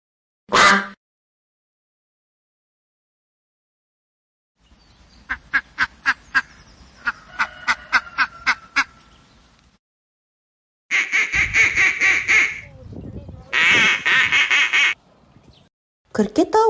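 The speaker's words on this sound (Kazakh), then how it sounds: "Үйрек." Domestic duck quacking in several clear bursts, first a quick run of short repeated quacks and then longer, louder calls, close and alone against silence.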